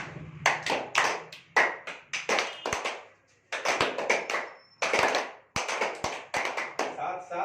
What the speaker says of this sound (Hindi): साथ साथ में नहीं बज रही तालियां